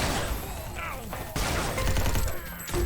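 Rapid bursts of weapon fire crackle through a Xonotic 2v2 team deathmatch match, dense and overlapping with game effects, while a caster talks excitedly over the action.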